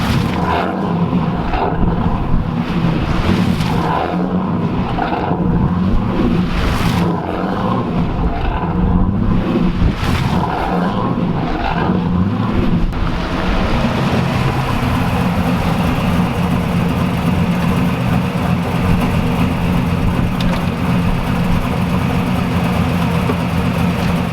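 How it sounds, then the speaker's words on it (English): A Trans Am's engine runs loud and close in a steady low rumble as the car creeps through tight figure eights, with slight swells in pitch at the start before it settles into an even drone. "I'm gonna go do 4 or 5 or 6 figure eights, nice and tight, make sure I'm going slow so the power steering pump is doing its work"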